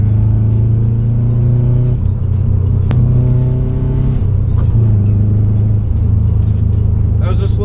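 A Ford Fiesta ST with a worn synchro accelerates hard on a mountain road, its engine note climbing through the gears with shifts between, loud and close in the cabin throughout.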